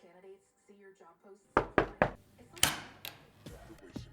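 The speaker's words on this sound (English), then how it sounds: "Guess I'll just start knocking on doors" Knocking on a door, a burst of several loud sharp raps following a short stretch of talk, with a few softer knocks and a voice continuing afterward.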